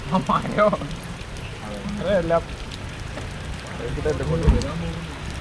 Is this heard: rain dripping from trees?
yes